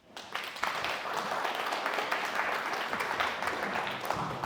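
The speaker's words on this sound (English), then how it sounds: "Lots of clapping for ahistorical nonsense." A debate audience claps steadily, a dense, sustained wash of applause that swells in quickly and holds at an even level throughout, with no voices rising above it.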